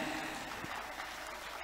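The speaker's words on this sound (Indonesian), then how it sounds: "Tepuk tangan untuk Dinas Pendidikan." Brief, continuous round of audience clapping at an education outreach gathering, moderately loud and even, with no speech on top.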